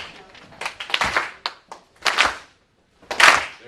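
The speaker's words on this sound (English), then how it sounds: "just clap your hands real quick" Scattered hand claps from a small crowd, uneven and loose in timing, coming in short bunches with pauses between.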